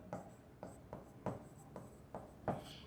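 Marker or chalk strokes on a board during a physics lesson, faint scratchy squeaks in short bursts roughly every half second, close and quiet.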